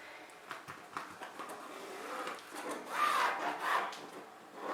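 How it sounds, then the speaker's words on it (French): An erasable pencil drawn across fabric to mark a line, producing soft scratchy rubbing strokes in several short passes, close and fairly quiet, with no talking. "Je trace une ligne avec mon crayon qui s'efface."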